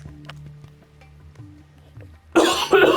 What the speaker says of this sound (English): Excuse me, had to cough there.